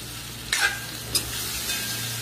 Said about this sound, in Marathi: आणि मस्त हलवून घेऊ असं